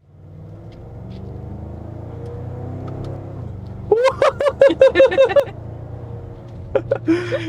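A BMW with a 700 HP stage 2 plus tune downshifts to second and accelerates: a steady engine drone from inside the cabin gives way to a rapid series of loud, sharp revving pulses, then a few more bursts near the end.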